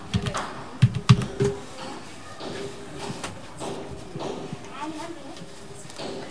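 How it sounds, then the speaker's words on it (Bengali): Keys on a computer keyboard tap out a short search as a few crisp, close clicks early on, then lighter scattered taps, while a person talks throughout. "এখানে যদি আমরা লিখে দেই ফ্লায়ার"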